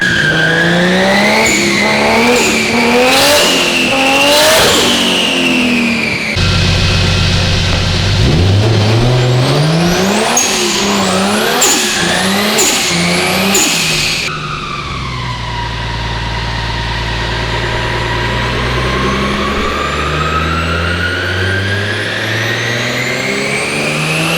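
A JZ-engined Nissan S13 coupe is strapped to a dyno and revved hard. The engine climbs and falls loudly and close several times, with tyre squeal mixed in, then holds a long sustained high-rev pull.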